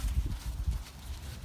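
A horse trots on soft ground, with a few dull, close hoof thuds in rapid rhythm at first, then fading to quieter footfalls.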